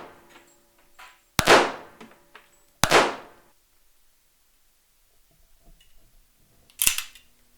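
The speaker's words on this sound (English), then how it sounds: "The 1911 230 grains, ready to fly down the range." A 1918 Colt 1911 pistol firing 230 grain rounds at a range: three sharp, loud shots, two close together and one a few seconds later, each with a short decaying echo, no talking.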